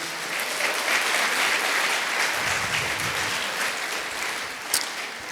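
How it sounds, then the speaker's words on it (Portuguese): A congress hall audience at a national evangelization event gives a round of applause, dense and steady throughout the whole stretch with no voices over it. "Dá uma salva de palmas,"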